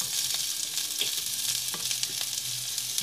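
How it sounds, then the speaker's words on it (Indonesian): Garlic fries in hot oil with a continuous bright sizzle, close and steady, with faint occasional stirring clicks and no talking. "Lalu goreng bawang putih sampai harum ya."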